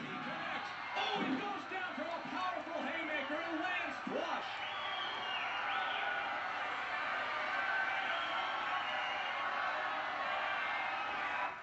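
Crowd noise from the boxing video game Fight Night Round 2 swells steadily for the whole stretch, a broad continuous roar with scattered whoops and yells, loud and even throughout.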